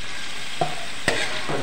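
Apple snails stir-fry in plenty of oil in a pan with a close, steady sizzle, broken by two brief clacks of shells or a utensil against the pan.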